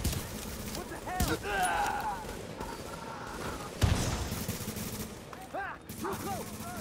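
Gunfire in a PvP fight from The Division 2 Hunter's Faith season, sounding as several bursts of shots among other game effects. Voices talk over most of the fight.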